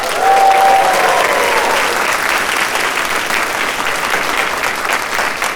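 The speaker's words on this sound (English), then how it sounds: "So please give Chex a round of applause." Audience at a furry convention's closing ceremony applauds a volunteer, a steady wash of many hands clapping that holds loud for the full stretch, with a faint sustained tone briefly near the start.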